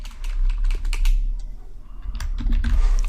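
Rapid clicks from typing on a computer keyboard, set up close and loud, with an irregular rhythm of quick bursts and a short lull midway.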